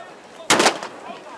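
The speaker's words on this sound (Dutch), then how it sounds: "Daar is het schot." At the start of a skûtsje sailing race at Lemmer, a starting gun fires once with a loud, sharp crack, and the blast then fades away over steady background noise.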